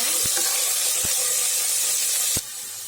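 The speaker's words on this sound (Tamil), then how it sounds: "இந்த ஸ்டேஜில் உருளைக்கிழங்கு சேர்த்துக்கிறேன்." Potatoes frying in a pan for a chickpea curry, giving a steady broad hiss of sizzling oil throughout, with a few short knocks, and the sizzle drops quieter near the end.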